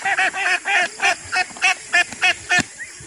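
Ducks on a farm give a run of loud, close, rhythmic nasal quacks, about ten calls in quick succession with no talk.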